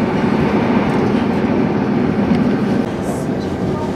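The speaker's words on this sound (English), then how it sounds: "This is 158829, operating the 1336 Transport for Rail service to Birmingham International." Class 158 diesel multiple unit 158829 runs a rail service to Birmingham International near Marston, producing a steady, loud, close rumble of wheels and carriage that continues throughout and eases slightly toward the end.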